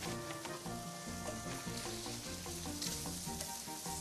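Shrimp pan-frying in a covered-then-opened pan, a steady loud sizzle running throughout with no talk.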